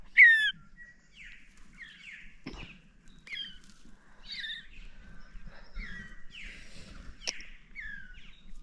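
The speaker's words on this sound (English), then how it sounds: "here's the baby bird." A baby bird chirps and tweets softly in short, high, repeated calls, closely miked over faint room noise, with one louder squeak at the start and no talking.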